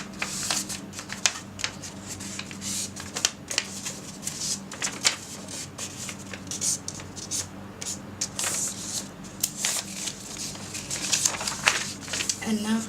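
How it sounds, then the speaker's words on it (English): Paper folded by hand for an origami bird, with intermittent crisp crinkles, creases and rustles close up while a person talks throughout. "Make sure you fold it from the edges."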